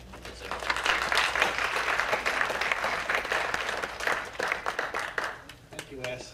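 An audience claps as a speaker is welcomed to the podium at an addiction and recovery event: dense, steady applause that holds for several seconds, then thins into scattered claps as a voice begins near the end.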